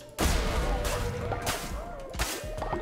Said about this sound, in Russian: Теперь нужно это разбить.